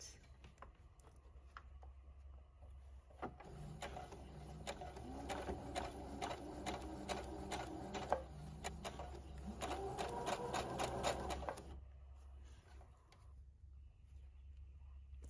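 A home sewing machine stitches a zipper into a pink summer dress, running in bursts of rapid, even needle thumps for several seconds, then stopping into quiet room tone.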